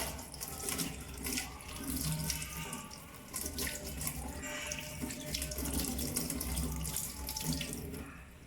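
Hands are washed with elbows kept low under a steadily running tap during an aseptic handwashing routine, the water hissing continuously and close by with no speech.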